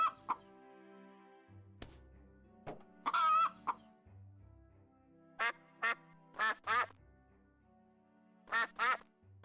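Ducks quacking and chickens clucking in the farming video game My Time at Portia, a series of short, sharp calls scattered irregularly, close and clear over quiet low game sounds.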